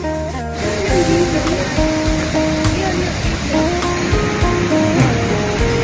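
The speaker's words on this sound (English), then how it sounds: "here are the Asradhara waterfalls" Asradhara waterfalls in Nepal, beside a newly built temple: a loud, continuous close roar of falling water, with a voice talking over it.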